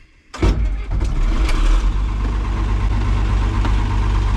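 A John Deere 4030 tractor engine starts abruptly, then settles into a steady, loud, low idle rumble at about 1,000 RPM that continues evenly.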